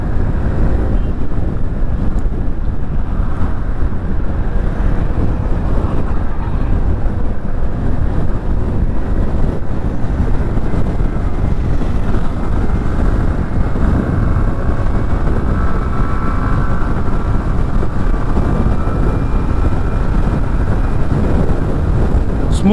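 Steady road and wind rush with a smooth, continuous engine drone while riding a 2025 TVS Scooty Zest 110 scooter, constant and loud with no breaks.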